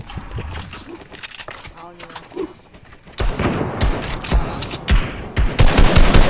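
Video game sniper gunfire and rapid shooting crack through the action in bursts, growing denser and louder in the second half, with players talking over the shots.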